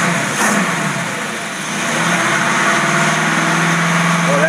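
Carbureted engine with a Carter AFB carburetor on a Dodge-type setup idling steadily, a close, loud, even rumble holding constant for several seconds with no talk over it.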